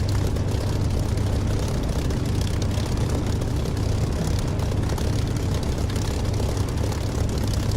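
A propeller aircraft in the DCS flight-sim video game throttling up for takeoff, a loud continuous engine drone with deep low rumble held steady throughout, no talk.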